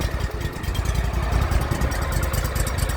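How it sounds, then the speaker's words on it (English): A Craftsman YTS3000 lawn tractor engine runs close by with a steady, chugging mid-pitched rumble and a quick rhythmic pulse, holding at an even idle throughout. "She cranks right up for the most part."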